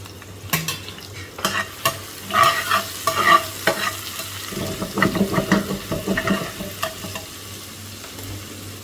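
Onions fry in a pan until brown for a birista topping, with a close, steady sizzle and bursts of spoon-stirring scrapes and clatter that build in the second half, with no one speaking.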